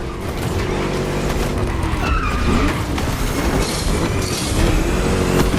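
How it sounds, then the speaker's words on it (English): A V8 muscle car races in The Crew Motorfest, its engine a loud, steady roar throughout, with tire squeal and skidding noise layered in during a lap. "Just listen to that V8 like a chunky, down-tuned guitar riff."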